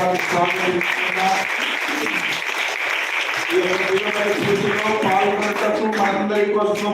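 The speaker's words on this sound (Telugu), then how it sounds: "గట్టిగా చప్పట్లతో" A crowd at a church festival flag-hoisting ceremony gives loud, sustained applause for a sister and committee members, with steady dense clapping while music or voices carry on underneath.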